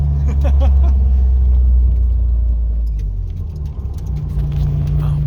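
A modified Nissan 240SX or Lexus IS300 rumbles on its first drive, with a loud, steady low engine drone heard from inside the car and a few light rattles and clicks over it.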